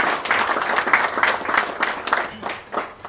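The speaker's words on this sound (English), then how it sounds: "A big hand of applause to them again." Audience applause for award nominees at the 2019 P.A. Awards ceremony, a steady wash of many hands clapping throughout, fairly loud and close, with no talk over it.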